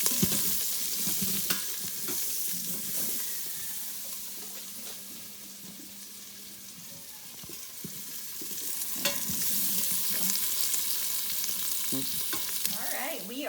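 Onions sear in a quick cooker pot with a continuous hissing sizzle, broken by occasional stirring scrapes and clicks, steady and close throughout with no talking.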